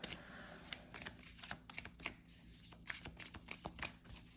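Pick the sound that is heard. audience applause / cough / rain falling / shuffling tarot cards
shuffling tarot cards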